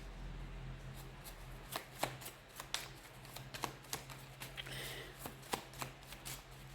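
Tarot cards being drawn and handled in a quiet indoor setting, with a steady run of soft riffling snaps and papery slaps close by, alone without voices.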